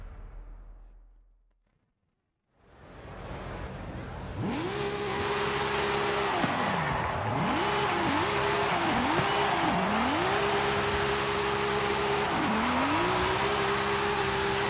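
Car in Forza Horizon 5 spinning its wheels through every gear up to fifth, a loud, sustained engine wail rising repeatedly with quick shifts, over constant tire squeal after a brief silence at the start.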